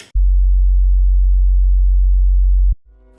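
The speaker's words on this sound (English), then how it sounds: "That's why it sounds like a really clean sub bass." A single sustained, pure sub bass tone holds steady for a few seconds, then cuts off abruptly, leaving a brief quieter tail.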